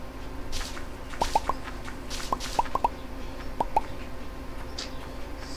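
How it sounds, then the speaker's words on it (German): Sand blocks being dug away in the video game Minetest, heard as quick soft popping digging sounds in small clusters of two or three over steady background game noise. "Ach komm, ich mach erstmal die ganzen Sand hier weg."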